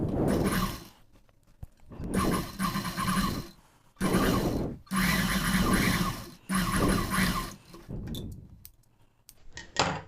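A sewing machine stitches the shoulder of a designer blouse in four long, steady runs separated by short pauses, then finishes with a few brief clicks and handling noises, loud and close with no talking.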